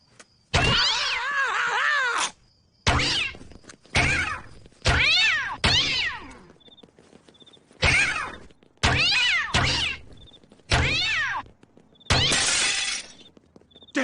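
Cartoon cats fired from a cat launcher yowl in a series of loud, separate meows and screeches, about nine bursts with short silent gaps between them.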